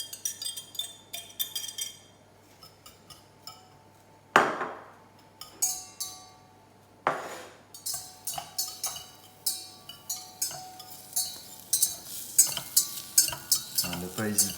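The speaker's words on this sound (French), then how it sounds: "Ne pas hésiter à bien remuer pour bien enrober les oignons." Onions for a curry mussel sauce sizzle in a pan while a utensil stirs them, with repeated clinks and scrapes against the metal over a steady low frying hiss, close and alone.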